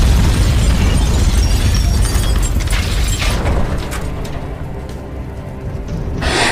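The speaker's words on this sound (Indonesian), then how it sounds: "mobil serta piringan hitam itu meledak secara bersamaan" A car and a vinyl record blow up together in a film scene, giving a loud, dense explosive roar that fills the opening seconds, then thins into rumbling debris and fading crackle before a final swell of noise.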